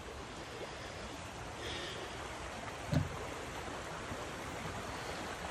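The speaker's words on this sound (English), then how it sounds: "Creek's up and running a little bit." A creek runs after rain, giving a steady, soft outdoor wash of flowing water with one brief thump partway through.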